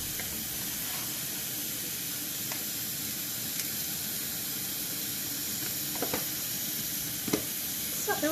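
Onions sizzle in a pot for a Moroccan couscous sauce after a splash of water, a steady close hiss of frying with occasional light clinks and scrapes as the mixture is stirred.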